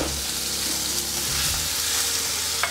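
Onion, carrot and potato fry in a hot pan with cumin seeds, giving a loud, continuous close sizzle with faint crackles and low scraping underneath.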